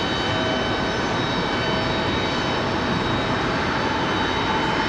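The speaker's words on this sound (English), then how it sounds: "Frontier 1669, Carmen the Black Bear livery off to Atlanta, Georgia." A Frontier Airlines jet, Carmen the Black Bear livery, departs Raleigh Durham airport bound for Atlanta, a loud steady engine roar holding at close range for the whole stretch.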